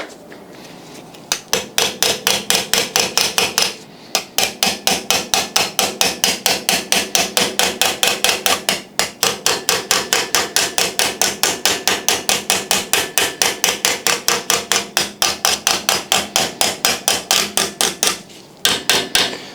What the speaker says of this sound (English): I'm just going to try to shape it with a hammer